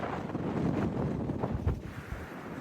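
Strong wind roars across an open mountain overlook near Big Meadows, buffeting the microphone in a loud, continuous rush with gusty surges and no talk.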